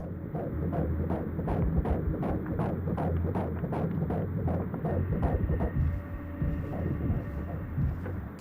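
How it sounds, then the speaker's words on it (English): An ultrasound heartbeat of an unborn baby in the horror video game Mouthwashing throbs in quick, regular pulses over a low hum. The beat fades toward the end. "That's the sound of a baby's heartbeat."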